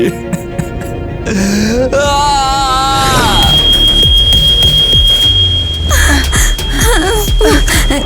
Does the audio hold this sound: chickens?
no